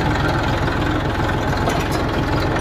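A tractor engine idles nearby, with a loud, steady low chugging in a fast, even pulse that runs without a break.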